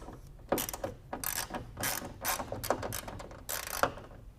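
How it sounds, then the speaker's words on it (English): A ratchet tool turns a Torx bit (T20) on a Tesla Model Y Juniper trunk liftgate, giving a series of close, uneven bursts of clicking and rattling with short pauses between them. "So go ahead and use a ratchet tool."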